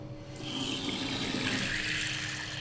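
Water runs steadily from a hotel bathroom tap, a continuous close hiss that starts abruptly and holds at even loudness, with a faint extractor-fan hum beneath it.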